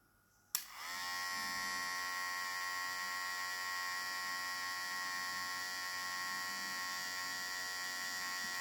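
A VGR V908 electric hair trimmer switches on with a click and then runs in a steady, close, bright buzzing whine with a mains-like hum, continuing unchanged to the end with no talking.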